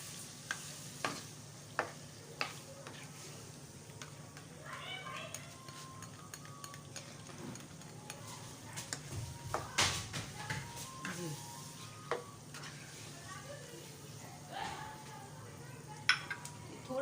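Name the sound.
chicken liver (kaliji) frying with yogurt in a pan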